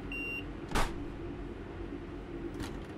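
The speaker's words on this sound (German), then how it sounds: "Dass man das Piepsen so weit hört" A single short electronic warning beep from a train in Train Sim World 3 on the Birmingham Cross-City line, thin and high, over the steady low rumble of the train.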